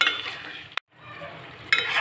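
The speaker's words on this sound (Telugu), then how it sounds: "మొత్తం ఒకసారి మిక్స్ చేసుకున్నాం" Masala stirred into a prawn and egg curry in a pan, close scraping and sizzling strokes broken by a brief silent pause, with faint utensil clinks.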